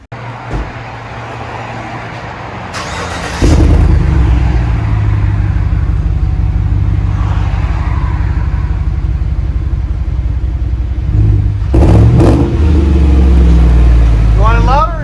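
A Chevy Tahoe 5.3L V8 idles with a deep, loud, rumbling straight-pipe exhaust, a 3-inch pipe replacing the muffler, and the engine gets blipped briefly near the end.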